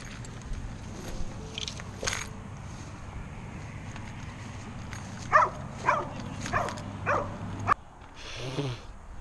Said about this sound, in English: I just heard a dog.